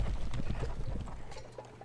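Many cavalry horses move in a wargame, a dense patter of hooves clip-clopping close and fairly loud, continuous and slightly easing toward the end, with no clear talk over it.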